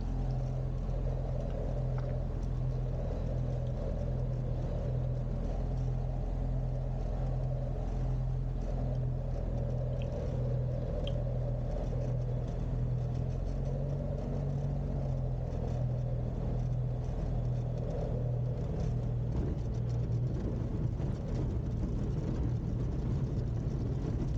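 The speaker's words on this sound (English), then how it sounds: "just coming now onto finals onto runway 34 at Otherton" Light aircraft G-ENEE comes in on final approach to runway 34 at Otherton, its engine a steady, close droning hum that runs unbroken throughout with no talk over it.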